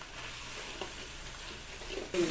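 Tomatoes frying with spices in a pan give a soft, steady sizzle while a spoon stirs and scrapes through them, ending in a brief louder clatter; no one speaks.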